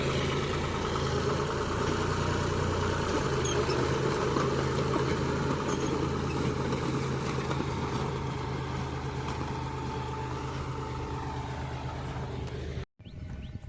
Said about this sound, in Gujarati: અમારે ટ્રેક્ટર ચાલુ છે